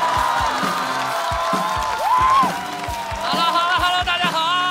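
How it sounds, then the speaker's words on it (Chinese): An audience applauds and cheers to welcome comedian Liu Yang onstage at a stand-up comedy show, with the crowd noise mixed under loud music. "我们掌声有请刘洋教主"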